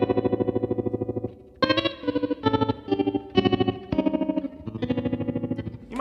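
An electric guitar runs through an Ibanez Tremolo Mini pedal set to full speed, and the rapid on-off pulsing chops each sustained chord into a fast stutter. Loud and close, with short breaks between chord changes and no voices.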